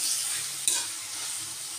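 Onions sizzling as they fry in a pan while being stirred, with a steady close hiss and one brief scrape or clack of the spoon partway through; no talking.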